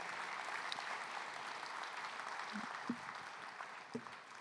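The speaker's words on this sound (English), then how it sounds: "Give them a round of applause." A conference audience at a session on accessible tourism gives a round of applause as guests come up to the stage: soft, steady clapping from a large room, with a few louder isolated knocks near the end.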